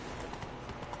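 Hooves of the horse in The Witcher video game clip-clop in a quick, brief burst of several steps, close and fairly soft.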